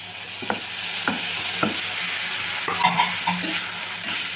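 Small tomato pieces, chillies and curry leaves fry in a pan with a steady loud sizzle, while a spoon scrapes and stirs in a few distinct strokes, close up with no voices.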